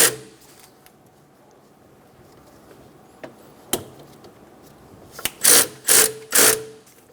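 A belt tensioner is tightened on a 1994-1997 Honda Accord 2.2L four-cylinder engine, giving faint scattered mechanical clicks, then three short, louder ratcheting bursts close together near the end.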